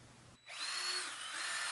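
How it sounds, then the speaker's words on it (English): A power drill pre-drills holes from the outside of wooden table legs clamped upright, one steady, loud whirring run of about a second and a half after a brief pause. "Then I could pre-drill from the outside and run in a couple screws on each leg."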